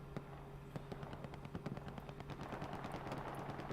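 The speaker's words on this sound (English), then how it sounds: "Genset's using his MG to shoot down the road" Machine gun fire in the video game Hell Let Loose, rapid repeated bursts of shots rattling at a moderate distance for several seconds, with no talk.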